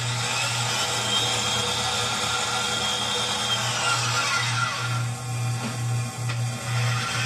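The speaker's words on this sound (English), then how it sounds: "Chuck the stub of the bolt up in a drill and then spin it against the grinding wheel to make sure that it's flat." A bolt stub from a Mazda RX-7 13B rotary engine rebuild, chucked in a drill and spun against a grinding wheel, gives a loud steady motor hum with a harsh grinding rasp, close by and alone.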